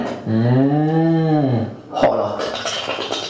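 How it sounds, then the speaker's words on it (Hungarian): A cow lets out one long, loud, close moo that slides downward, followed by a short burst of clattering noise and background bustle. "tehenet,"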